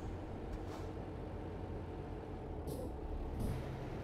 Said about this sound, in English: Holding Jake brake.